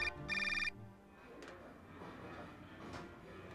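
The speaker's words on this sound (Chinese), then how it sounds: "他接到了凯莉的电话" A telephone rings in a burst of electronic trilling at the start, loud and close, then cuts off, leaving a quiet room with faint background noise.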